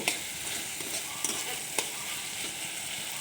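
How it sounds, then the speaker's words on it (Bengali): Soybean chunks frying in oil in a pan as a little water goes in, giving a steady close hiss and sizzle with occasional sharp spatters and scrapes of stirring. "এবার আমরা হালকা করে জল দিয়ে দেব।"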